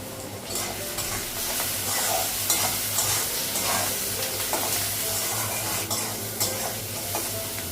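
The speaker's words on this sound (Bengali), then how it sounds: "পেঁয়াজটা কাঁচা লঙ্কাটা লাগালাম লাল করে ভেজে নেব" Chopped onion and green chilli, salted, frying in hot oil with cardamom in a home kitchen, giving a steady close sizzle with spoon scrapes and stirring clatter throughout, no talking.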